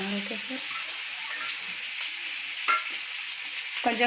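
Marinated fish pieces fry in hot oil in a pan over a low flame, a steady close sizzle with faint crackles and a few clinks of stirring.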